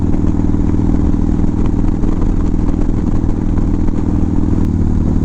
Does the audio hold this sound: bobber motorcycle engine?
yes